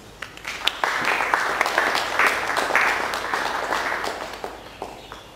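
A church congregation applauds during a wedding service, steady mid-loud clapping from many hands filling the whole stretch, with a few sharper individual claps standing out.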